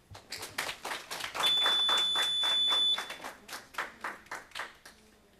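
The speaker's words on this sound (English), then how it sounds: "let's give them another round of applause" Scattered hands clap after a speech at a junior council meeting, a sparse irregular patter of individual claps in a room, interrupted midway by a brief shrill electronic beep.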